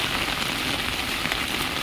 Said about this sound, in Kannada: ಬೆಳಗ್ಗೆಗಿಂತ ಕೂಡ ಜಾಸ್ತಿ ಮಳೆ ಬರ್ತಾ ಉಂಟು ಈಗ